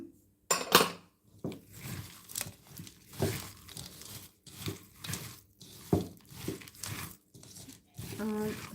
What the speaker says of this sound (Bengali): ঝালমুড়ি মাখা এই যে চানাচুর চানাচুরটাকে এইভাবে দিলাম